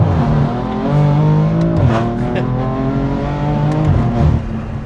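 A BMW F82 M4 pulls at full throttle, its exhaust droning loudly and rising in pitch through shifts, heard from inside the car with no talk.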